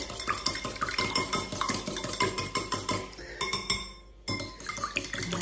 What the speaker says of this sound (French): On fouette les deux côtés.